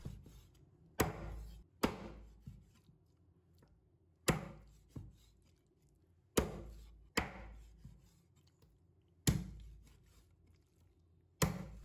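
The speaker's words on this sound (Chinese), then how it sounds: "把鸡肉剁成小块" A cleaver chops raw chicken into small pieces on a cutting board, with heavy, close thuds coming in uneven bursts of two or three and short ringing pauses between strokes.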